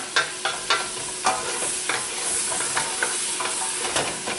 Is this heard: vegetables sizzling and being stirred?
yes